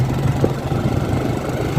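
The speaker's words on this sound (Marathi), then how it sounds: "किरण चालवतोय बाईक" A motorcycle climbs a steep hill road near Chandwad, its engine giving a steady, close, low drone that holds throughout without a break.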